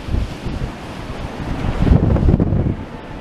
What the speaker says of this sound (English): the wind is getting up a bit now